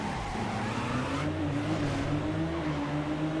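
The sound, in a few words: Veloci car engine in Midnight Club 2 video game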